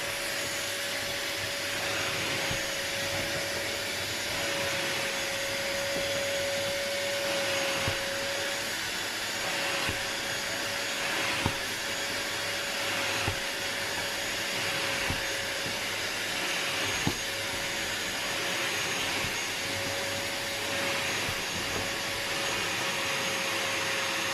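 An Arnica Hydra Rain Plus carpet washing machine runs steadily while cleaning a bed, a loud continuous vacuum-like roar with a sustained whine and occasional faint knocks, no talking.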